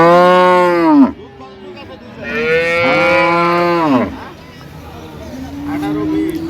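At a cattle market (haat) in Ambari, Dinajpur, dairy cows and calves give loud, drawn-out moos: two long calls and a third starting at the end, over a low murmur of crowd voices.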